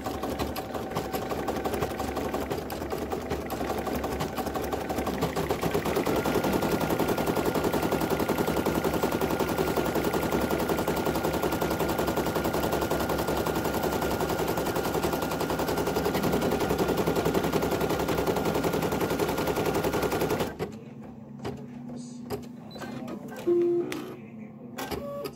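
A Brother PE800 embroidery machine stitching an appliqué fill design, a steady loud mechanical whirring and rapid needle clatter running for about twenty seconds before stopping abruptly, leaving quiet handling sounds.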